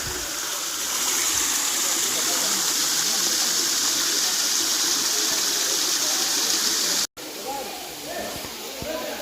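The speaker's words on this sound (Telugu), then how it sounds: "బండలు మొత్తం చీలి ఒక పెద్ద జలపాతం ఏర్పడింది" Kailasa Kona waterfall pouring over split rock boulders, a loud, steady, broadband rushing roar heard close by that runs continuously, briefly cutting out near the end before resuming.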